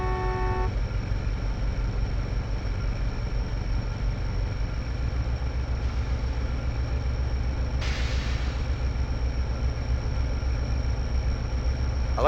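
A MARC Penn Line train in a train simulator pulls out from a station, its engine droning steadily, with a short horn toot at the start and a brief burst near the middle.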